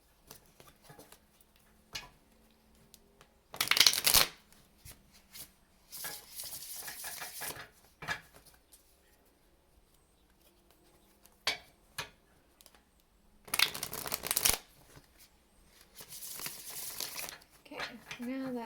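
Intermittent bursts of tarot cards being riffled and shuffled, with quiet taps and handling sounds in between, close by.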